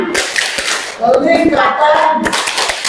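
A group clapping a rhythmic chant at a family community meeting, with loud, close patterned hand claps mixed with voices chanting together in a short burst.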